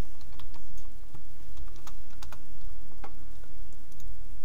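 Steady clicking keystrokes on a computer keyboard while entering a formula in Excel 2010, with irregular quick taps over a constant low hum, close and fairly loud.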